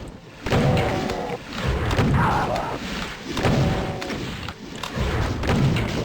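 Doom 2 combat against Revenants on the Speed of Doom map Dreamscape, with dense repeated thudding weapon blasts and booming impacts that keep coming throughout at loud, close range.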